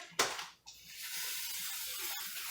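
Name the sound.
cooking spray being sprayed onto a baking pan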